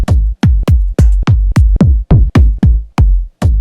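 Punchy kick drum samples for a house track, previewed one after another: about a dozen loud, deep thumps at a quick, slightly uneven pace, each with a short decaying tail and no voices.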